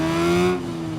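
Steady engine drone of a BMW motorcycle in the Ride 5 racing game, holding a bright sustained tone for about half a second before dropping away to a quieter hum.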